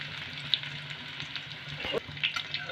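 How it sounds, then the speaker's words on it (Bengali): Chopped garlic fries in hot oil over a medium flame, a soft steady sizzle with a few small pops and light crackles close by. "তেল গরম হয়ে গেছে, এখানে আমি এবার প্রথমে দেব রসুন কুচিটা।"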